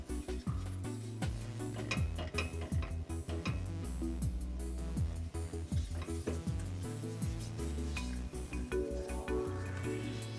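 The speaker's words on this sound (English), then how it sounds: "So you gotta stir this constantly because you don't want it to burn." Curry chicken sizzles loudly in a pan while being stirred constantly, with a steady frying hiss under rhythmic scraping and clinking of a utensil against the pan.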